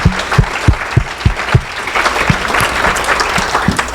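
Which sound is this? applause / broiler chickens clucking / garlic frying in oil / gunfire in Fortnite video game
applause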